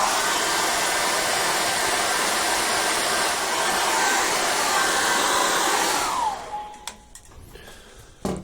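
A hair dryer blows steadily and loudly for about six seconds to dry acrylic paint, then cuts off, leaving faint handling noises and a soft thump.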